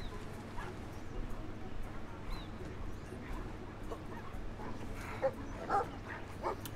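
Dogs bark and whimper faintly in the video game Brothers: A Tale of Two Sons, scattered yips rising over a low ambient game background.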